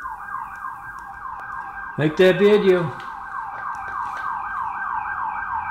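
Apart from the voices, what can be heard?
emergency siren wailing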